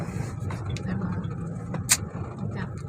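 Car being driven, a steady low engine rumble with road noise throughout and a brief sharp click near the end, close and without talk.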